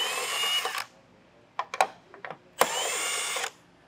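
A power tool spins out 15 mm bolts holding the bumper supports on a 2018 vehicle during a trailer hitch install, with two loud sustained whirring bursts separated by a few short clicks and rattles.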